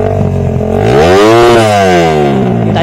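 A motorcycle engine fitted with a racing CDI revs hard and loud close up, its pitch climbing steeply to a peak before sliding back down, with no talk over it.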